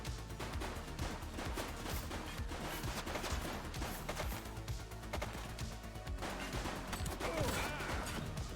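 Video game gunfire in The Precinct, a police game, heard as a rapid, continuous clatter of shots over a busy mix, fairly faint overall with no clear pauses.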